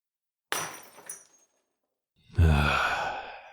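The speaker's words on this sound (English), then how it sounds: "And don't hurt yourself on the broken glass." A drinking glass drops and shatters with one sharp crash and brief tinkling fragments, followed after a pause by a loud, close sigh.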